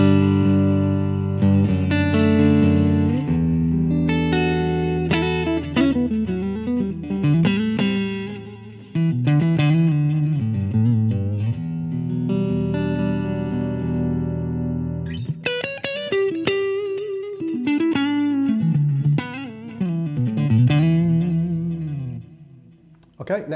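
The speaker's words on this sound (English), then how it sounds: "So let's have a listen to how it sounds. I'm running through a Roland Jazz Chorus JC90." Clean neck-pickup tone from a John Page Classic Ashburn SSS electric guitar through a Roland JC-90 Jazz Chorus amp, with chorus shimmer on flowing single-note lines and chords, played close and steady for about twenty seconds.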